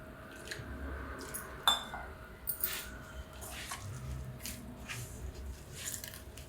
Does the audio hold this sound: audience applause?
no